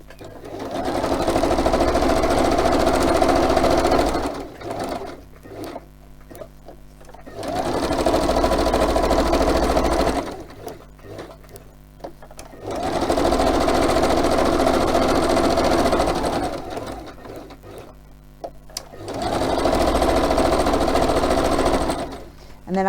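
A sewing machine stitching around fabric pieces runs in four long, steady, loud bursts. Quiet pauses fall between them, and someone talks during the breaks.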